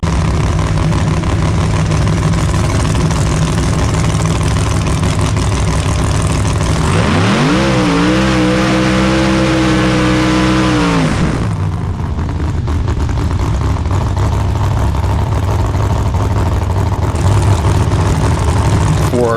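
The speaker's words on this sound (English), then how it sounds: "so we're gonna grudge race Mr. Clickhole" A drag race car engine at a no-prep street outlaw event rumbles loudly at idle, then revs hard in a sustained climbing roar for several seconds before dropping back to a steady lopey idle.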